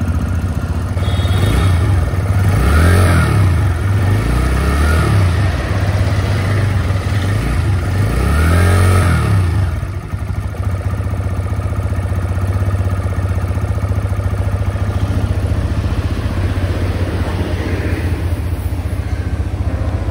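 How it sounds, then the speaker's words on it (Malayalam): A 2024 TVS Raider 125 motorcycle engine close by, idling then revving in two swelling bursts as the throttle is twisted, settling back to a steady idle hum; no speech. "അപ്പോൾ അതൊക്കെ ജസ്റ്റ് ഒന്ന് ആക്സിലറേറ്റർ തിരിച്ചു കൊടുക്കാം, സൗണ്ട് ഒന്ന് നൈസായിട്ട് കൂടുന്നവിടെ കേൾക്കാം."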